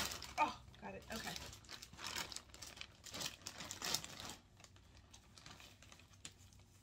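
Yarn packaging torn open by hand, bursts of crinkling and ripping plastic close up in the first few seconds, with a person talking over it before the sound trails off.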